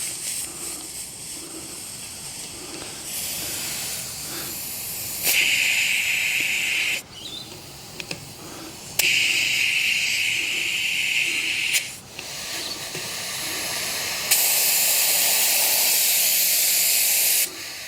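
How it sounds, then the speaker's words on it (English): Air hisses steadily from a tyre valve as a MAXTRAX Indeflate deflator lets it out, the loud continuous spray rising and dropping in stages as the valve core is loosened, with no talk. "And then loosening the valve core."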